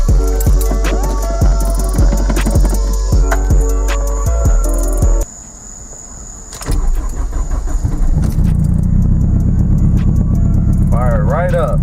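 A turbocharged Acura RSX with a K20/K24 swap cranks in loud rhythmic starter pulses, pauses, then fires and settles into a close, rumbling idle. A voice speaks briefly near the end.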